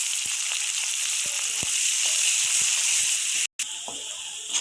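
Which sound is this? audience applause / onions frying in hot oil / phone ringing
onions frying in hot oil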